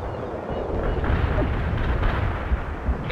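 Tank main guns fire smoke rounds in the World in Conflict video game, heard as a continuous dense rumble of heavy booms and blasts at moderate loudness, with no clear separation between shots.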